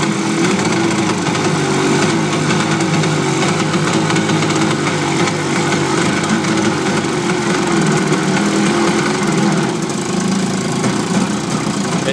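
A 1972 Johnson 25 hp outboard motor running hard at raised throttle, a loud, constant, rough mid-pitched engine drone that never settles for the full length.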